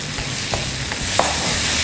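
Tomatoes stirred in a sizzling pan for tomato rice: a steady, close frying hiss with a few soft scrapes of the spoon and no speech.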